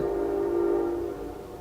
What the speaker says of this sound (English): That's the fucking train, you hear it?